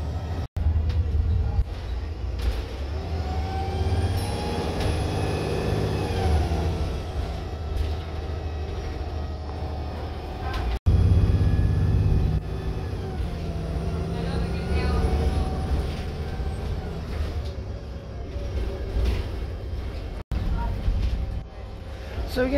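A VDL Pulsar bus driving through an industrial estate, its engine drone and whining drivetrain rising and falling with gear changes, loud and continuous from onboard.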